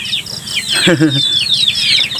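Chickens on a Thai farm near rice fields cluck and squawk up close, with a rooster-like call breaking through and chirpy bird calls around it over about two seconds.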